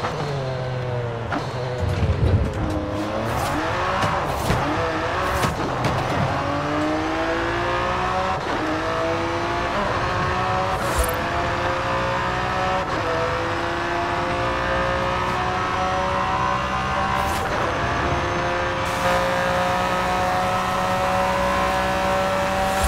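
A Ford GT race car in a Le Mans-style video game roars steadily as the engine climbs and drops through gear changes, with rising revs and occasional tire noise, loud and close throughout.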